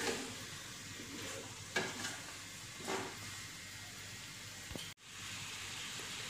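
Chopped bottle gourd with turmeric being stirred in a pan: a soft, steady sizzle with a few scraping strokes of a spoon, close and fairly quiet, with a brief cut near the end.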